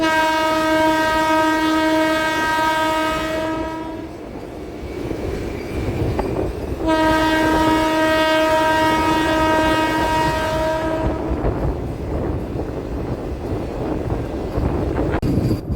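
MEMU passenger train on the Rajahmundry to Bhimavaram run sounds two long, loud horn blasts, each followed by steady rumbling of moving rail cars, with no talk.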